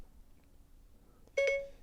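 Siri voice assistant on a phone gives a short electronic chime, a quick double beep that stands out against quiet room tone.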